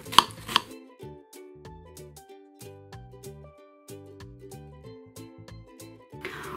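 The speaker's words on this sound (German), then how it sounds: "Als erstes schneide ich die Wassermelone zu." A knife chopping through watermelon on a cutting board, a series of crisp cuts in uneven rhythm with quiet background music, no talking.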